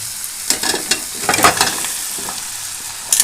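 Onion and tomato frying in a pan are stirred and sautéed, with a continuous close sizzle broken by scraping, stirring strokes throughout.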